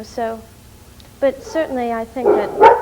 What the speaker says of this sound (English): excuse my dogs, they're just all freaking out back there